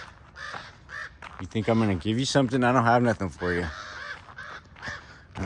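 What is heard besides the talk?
two crows cawing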